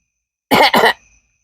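A person coughs twice in quick succession, a harsh, close and loud pair of bursts, followed by a short fading wheeze with no talking.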